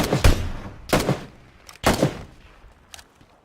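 A few sharp gunshots ring out in a shooting video game, about four separate cracks spaced unevenly, loud then fainter, with no talk over them.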